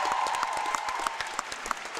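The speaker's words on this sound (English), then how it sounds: "now we're going to notice the crowd's going to get loud" Spectators at the World Jigsaw Puzzle Championship applaud a finishing competitor, a dense, steady burst of clapping from a nearby indoor crowd with a few scattered cheers.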